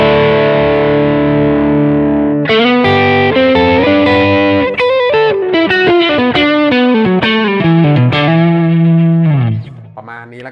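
Electric guitar played through an EOM Custom Flowing Overdrive, a Marshall Bluesbreaker-style pedal, with a loud, driven tone. Sustained chords give way to a run of picked, descending notes, then a held chord that cuts off near the end.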